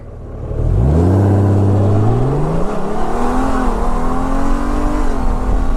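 A 2018 Honda Gold Wing with the DCT transmission pulls away and climbs through gears, its engine rumble rising in pitch with smooth shifts, loud and close with steady wind noise and no talk.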